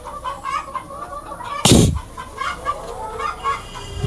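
Chickens on a poultry farm cluck and peck close by in a steady, busy chorus, with one loud sharp burst partway through.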